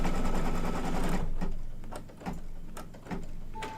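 An embroidery sewing machine stitches an in-the-hoop spring flower mug rug. A continuous close mechanical whir opens the clip, then gives way to quieter clicking and tapping from the machine. No voices.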